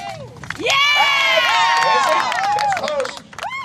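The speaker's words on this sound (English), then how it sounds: "Let's cheer him on!" A crowd at a real-life jousting event cheers loudly, with shouts and whistles rising quickly and holding for a couple of seconds before fading slightly, then another shout near the end.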